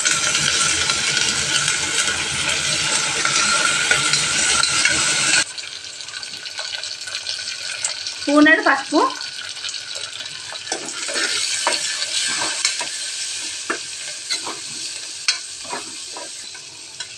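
Onion, curry leaves and coriander frying in a pan with fenugreek leaves, stirred; a loud broad sizzle for the first five seconds drops to a softer hiss, with a cluster of scraping stir strokes around eight seconds and intermittent clinks after.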